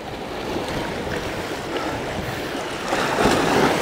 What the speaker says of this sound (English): they're the big bow waves, so they're hopefully the worst of it